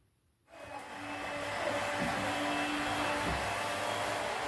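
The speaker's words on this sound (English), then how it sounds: "Hoover and sweep." A vacuum cleaner switches on after a brief silence and runs as a steady, loud whirring drone during household hoovering, with no talking over it.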